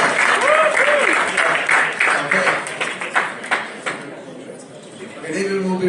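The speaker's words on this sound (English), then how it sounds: "Round of applause." A round of applause fills a room at a Melava Malka evening event as an audience claps loudly and densely, then the clapping thins and fades out, with a voice speaking at the end.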